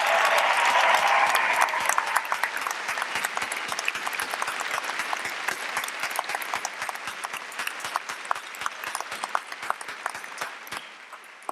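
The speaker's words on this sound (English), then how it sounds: "how about a round of applause for all the mothers, because tomorrow is Mother's Day" A commencement crowd at UNC Asheville applauds in honor of mothers, opening as a dense roar of clapping that thins over about eleven seconds into sparser, distinct individual claps.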